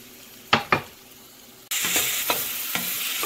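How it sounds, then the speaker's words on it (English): Button mushrooms drop into a pot of sweating garlic with a couple of sharp clatters, then a bright, loud sizzle starts abruptly and continues, broken by a few stirring knocks. "Now I'm adding my button mushrooms."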